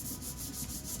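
Sandpaper rubs by hand over car paint, a brief close raspy scrubbing with quick back-and-forth strokes.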